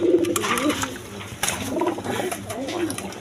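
Pigeons at a pigeon market, several birds cooing in soft repeated rolling phrases close by, with a voice talking over them.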